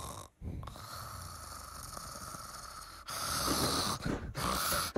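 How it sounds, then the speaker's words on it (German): Loud snoring from someone sleeping nearby, with long rasping, hissing breaths, close and harsh, growing louder after a short pause. "Die Person neben dir schnarcht wie ein Elch"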